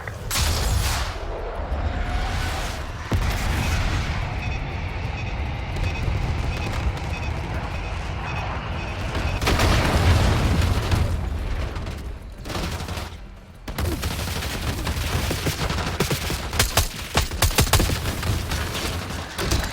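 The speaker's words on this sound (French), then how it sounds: "Allez, soldats, demandez la frappe. Bombe envoyée." Airstrike bomb explosion and battle noise in the Black Ops 6 campaign: sustained gunfire and rumbling blasts, a heavy boom around the middle, and soldiers talking over the combat.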